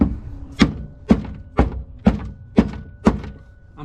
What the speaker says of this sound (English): that's all the sound deadening breaking off inside the tub